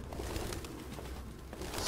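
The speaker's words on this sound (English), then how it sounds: "So many pigeons." Pigeons in the video game Detroit: Become Human, with steady overlapping cooing and rustling from a large flock, fairly close and continuous at moderate loudness.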